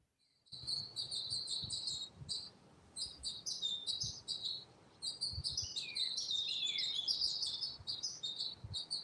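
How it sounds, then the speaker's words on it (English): Many birds chirping and tweeting around backyard bird feeders, a dense, steady chorus of high calls with faint low background sounds beneath, no talk. "Lots of birds. You can hear them chirping."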